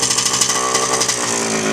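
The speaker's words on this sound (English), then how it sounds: "The kickstart is so tall, you have to just really get on it." A Yamaha IT 250 dirt bike from a barn-find restoration runs with a loud, close, rapid two-stroke engine buzz and pulsing exhaust throughout.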